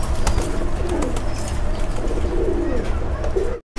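Red checker pigeons coo in a close, fairly loud series of throaty, rolling calls over a busy, noisy background, ending with a brief cut to silence.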